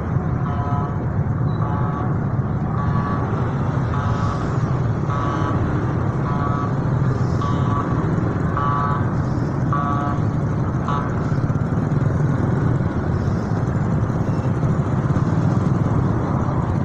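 Stop-and-go traffic on a congested road between Surabaya and Gresik, with cars and motorcycles idling and rumbling in a steady wash and a run of short horn-like beeps early on.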